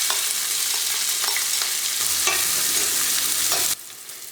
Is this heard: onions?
yes